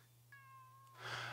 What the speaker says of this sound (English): Oh, it's a little cat.